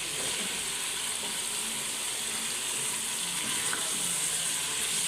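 Chicken pieces fry in a pan for shami kabab, a steady broadband sizzle that holds evenly throughout, close and continuous with no talking.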